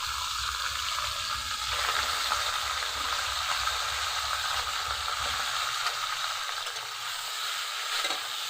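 Chicken pieces frying lightly in a pan give a steady, close sizzle with soft crackle that holds evenly throughout, with no voices.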